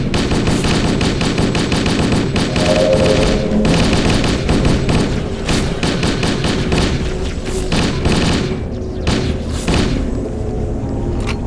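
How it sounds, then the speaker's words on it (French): Machine gun fire in the video game Halo: Combat Evolved: loud, rapid sustained bursts with heavy thumps and booms, easing briefly near the end before more shots ring out. "On va utiliser la mitrailleuse."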